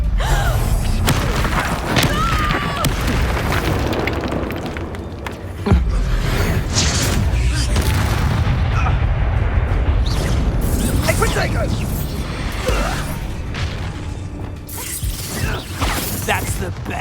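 A Confringo blasting spell explodes in the Hogwarts video game, a heavy boom with thuds and crashing debris inside a dense, loud game soundtrack, with voices speaking over the action.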